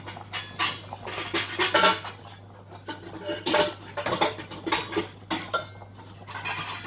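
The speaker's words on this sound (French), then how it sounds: "je prends une petite casserole" Metal cookware clatters and clanks repeatedly as a small saucepan is moved around, with irregular knocks and scrapes close by.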